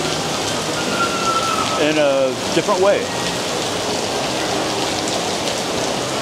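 Steady rain falls over Venice's Grand Canal, a dense, even hiss of drops on water and surfaces throughout, with a brief voice speaking partway through.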